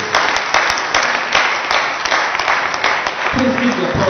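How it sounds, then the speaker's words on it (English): Steady audience applause fills the hall after a keynote speaker is introduced at a business summit, a dense wash of clapping with scattered sharper claps throughout, loud and continuous. "Please keep your applause coming and please get up on stage."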